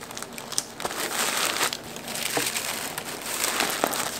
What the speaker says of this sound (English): A wee bit of tape to hold that down.